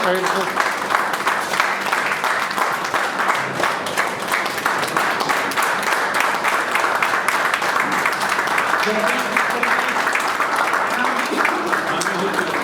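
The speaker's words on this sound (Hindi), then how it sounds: "तालियों में कंजूसी नहीं होनी चाहिए" Applause from an audience at a Hindi-language memorial award ceremony, dense steady clapping lasting throughout, with voices mixed in underneath.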